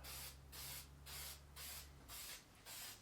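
Repeated bursts of a spray nozzle hissing as finish is applied to a guitar body from about six inches away, about five sweeps in a steady rhythm with short gaps, close and fairly loud.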